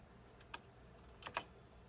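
Keys tap on a Commodore 64 keyboard in a few quiet, scattered clicks, with a short cluster of quick keystrokes near the end and no talking.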